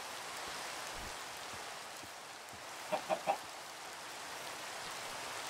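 A Minecraft chicken gives three quick clucks in a row, fairly close, over a steady hiss of falling rain.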